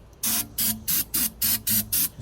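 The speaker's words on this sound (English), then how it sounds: "spray a little bit of goodness in there." Aerosol spray is shot into the engine of an old abandoned Chevy one-ton tow truck in about six quick hissing bursts, close and fairly loud, with short pauses between.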